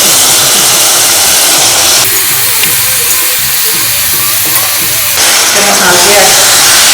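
Duck meat dropped into a pan of spices fried golden brown, giving a loud, dense, continuous hissing sizzle up close that stays strong throughout, with no voices.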